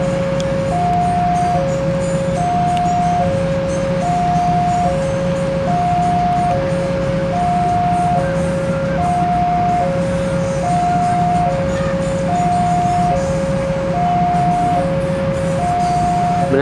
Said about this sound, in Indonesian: Kita lihat persaingan antara kereta api Raja Selatan si Argo Wilis dengan kereta api KLB uji coba